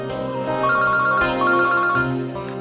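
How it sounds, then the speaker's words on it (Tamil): A melodic phone ringtone plays alone for an incoming call, a bright repeating electronic tune of rising and falling notes lasting a few seconds. "சோலங்கி ஃபோன் பண்றாரு."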